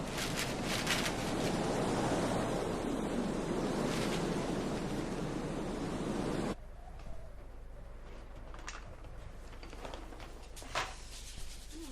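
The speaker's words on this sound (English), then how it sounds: "It's only the wind." Wind blows outdoors on a windy day, a loud rushing gust for about six seconds that then drops to a softer, steady breeze with a few faint knocks.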